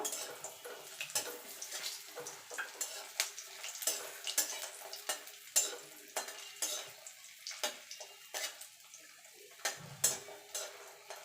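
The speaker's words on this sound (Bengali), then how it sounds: "বড়িগুলোকে লাল লাল করে ভেজে নেব" Lentil dumplings (bori) fry in oil in a pan, with repeated close clinks and scrapes of a utensil stirring over a faint sizzle, no talking.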